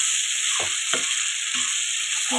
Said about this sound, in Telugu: ప్రాన్స్ అనేవి వేసుకుంటున్నాను.